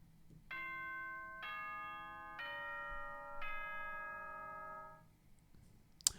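A Danganronpa announcement chime rings out in the video game as four clear, bell-like ascending tones, each ringing and decaying in turn, followed by a brief click at the end.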